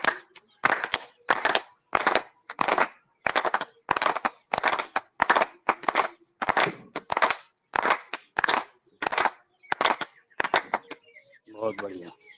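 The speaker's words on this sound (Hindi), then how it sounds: "बजा लेते हैं ताली 15 बार।" During a yoga session, hands clap about fifteen times in a slow, even rhythm, each clap crisp and close, and a voice speaks briefly at the end.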